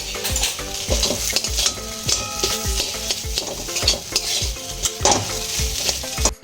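Boiled potato stirred into a spiced vegetable filling frying in a pan, with loud, continuous rhythmic scraping and clanking of a spoon against the metal over a constant sizzle.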